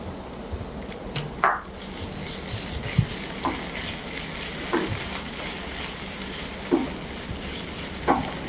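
Ginger garlic paste fries in a pan for a South Indian pepper chicken, giving a continuous close sizzle with occasional scraping stir strokes and soft clacks scattered through it.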